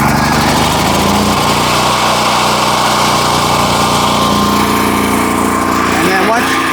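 Small engine of a home backup generator running just after starting, a loud, steady, close-up buzzing drone throughout with a brief fluctuation near the end.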